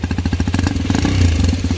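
The engine of a Hero XPulse motorcycle, ridden in the rain, thumps out loud, close exhaust pulses in a steady rhythm. The note rises slightly in a brief rev midway, and no one speaks.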